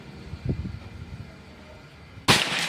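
A Predator Pajero Gen 6 air rifle fires one sharp test shot near the end, a sudden loud crack following a stretch of low background noise.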